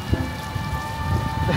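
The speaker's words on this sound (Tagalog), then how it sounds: "Medyo umambon-ambon." Light outdoor drizzle on Cijin Island in Kaohsiung, Taiwan, a steady soft hiss of rain with faint patter and low rumbling background noise, no voices.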